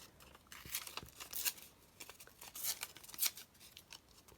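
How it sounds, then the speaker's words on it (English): Paper ephemera for a junk journal folio is torn by hand at close range in a quiet room, several short ripping bursts. "So just tear these bits down."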